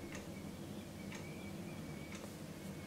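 A gas stove's igniter clicks in a kitchen while soup is being made, three faint, evenly spaced sharp ticks roughly a second apart over a quiet background hum.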